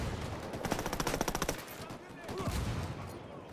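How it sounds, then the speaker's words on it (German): Dense bursts of automatic gunfire from the Ghost Recon Wildlands video game, rapid shots rattling for about a second and a half, then quieter scattered shooting and ambient battle noise. "Die schießen von fucking allen Seiten, ne?"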